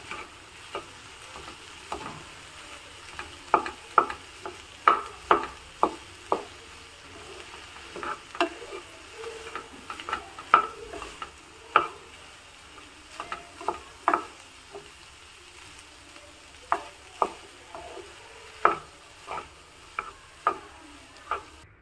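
Rice being mixed with okra gojju produces a long series of close, sharp clinks and scrapes from a utensil, in uneven repeated strokes over quiet background.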